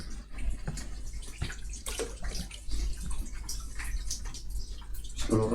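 Water is poured and splashes during the washing of a deceased body for burial, irregular trickling and dripping close by, with soft knocks and a louder splash at the end, no speech.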